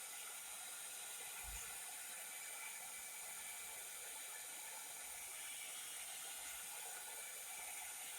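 A heat tool blows across a paper tag to dry it, a steady, faint, even hiss of air that runs with no break from start to end and has one soft low bump early on.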